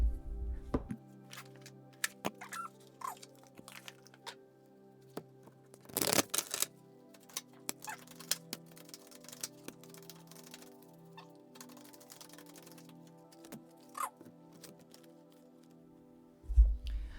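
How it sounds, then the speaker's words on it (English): Soft, irregular riffling and tapping of cards being shuffled, quiet and close, with a few sharper slaps and no voices. "Let me get some cards shuffled."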